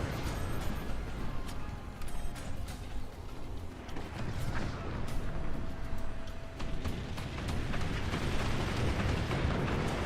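A mortar firing in a multiplayer video game match, heard within a busy, rumbling battle soundscape of repeated thuds and bursts at steady moderate loudness.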